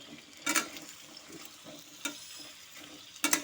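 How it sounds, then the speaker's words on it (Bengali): Potato and pointed gourd fry in a pan over low to medium heat, with a soft sizzle broken by a few sharp stirring clatters, close by and without speech. "এখন আলু পটলটাকে রাসটাকে লো টু মিডিয়ামে রেখে আমি এগুলো একটু ভাজা ভাজা করে নেব"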